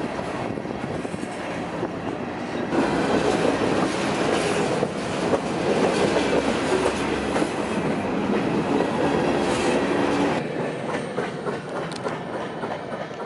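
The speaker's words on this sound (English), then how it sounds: "And the train was stopped." A train rolls steadily along the railway for the whole stretch, a continuous rumble with clickety-clack of the wheels and a faint squeal, moderately loud and with no talking over it.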